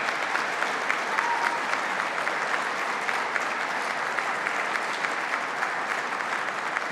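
At a New York State budget announcement event naming the Village of Gowanda and the Hamlet of West Falls as winners, the audience claps in a steady, full round of applause, dense and even from start to finish.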